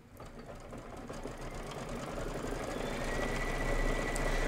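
A sewing machine stitches a buttermilk quilting design on a Kimberbell quilt, a steady, close mechanical whir that holds throughout and grows slightly louder near the end.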